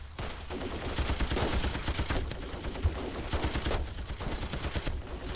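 Dense, continuous gunfire from many weapons in the Ravenfield battle game, a steady crackling barrage of shots with no clear pauses throughout.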